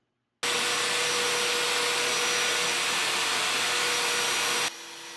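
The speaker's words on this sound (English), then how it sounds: "You hook it up to your shop vac and wow, does it keep the mess down." A Genmitsu 4040 Pro Max CNC machine cuts with a shop vac hooked to its dust boot, producing a loud, steady, rushing suction roar that starts abruptly and drops off sharply near the end.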